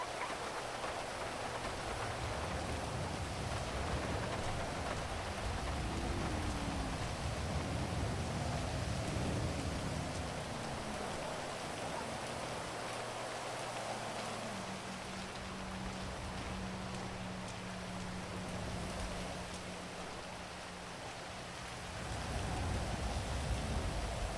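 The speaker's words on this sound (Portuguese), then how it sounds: "Procurar casa pra comprar no dia de chuva não é fácil" Rain pours in the video game GTA V during an online roleplay session. A steady, wide hiss of falling rain plays on with no breaks. Faint low tones from the game drift underneath.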